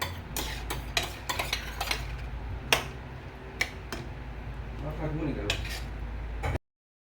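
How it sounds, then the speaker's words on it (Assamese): Chicken stir-fried with tomato sauce in a pan, a steady low sizzle under repeated sharp clinks and scrapes of a metal spatula against the pan, loud and close, ending abruptly. "এতিয়া চচৰ লগত মই এইখিনি অকণমান ভাজি ল'ম।"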